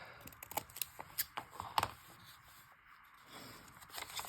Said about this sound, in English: I'll just trim that up with my deckle scissors so it's not a straight cut